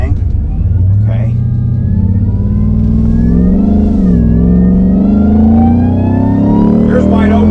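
A car engine revs hard at wide open throttle on a wet road, a loud, steady roar with rising pitch and a brief dip midway, while someone talks over it.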